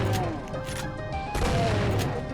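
Chaingunners on a stairway in the Doom II map Heartland fire rapid bursts of gunshots against a dense, continuous game soundscape, loud and close.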